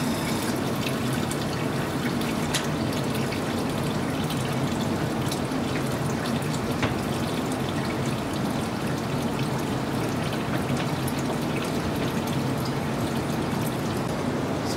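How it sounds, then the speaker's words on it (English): Water pours steadily into a large electroforming tank, a constant rushing, splashing wash that holds at one level from start to finish without a pause. "So while that tank fills"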